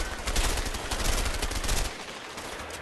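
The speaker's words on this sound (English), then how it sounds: "I'm shooting people and they take like ridiculous amount of shots." Rapid gunfire from the video game A Way Out, a dense burst of repeated shots for about two seconds, then a brief lull and one loud thump at the end.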